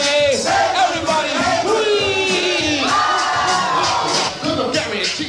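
A crowd at a 1984 Bronx breakdance event cheers in the early morning hours. The noise is loud and dense, with overlapping yells, whoops and shouting voices that go on continuously.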